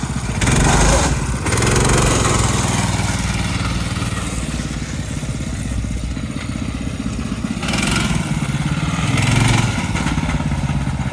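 Small go-kart engine running with a worn clutch, a loud continuous buzzing drone with a harsh rattling texture that swells and eases over several seconds.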